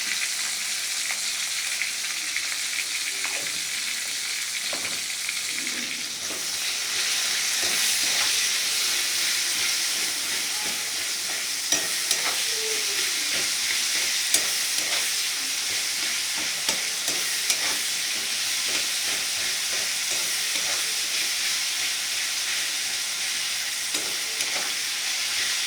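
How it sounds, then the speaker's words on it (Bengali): Chopped onions fry with salt in a pan, giving a steady, close sizzle and hiss that runs unbroken, with occasional stirring clicks and scrapes. "এবার পেঁয়াজগুলো যাতে তাড়াতাড়ি ভাজা হয়ে যায়"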